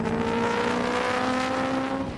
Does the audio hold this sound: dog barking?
no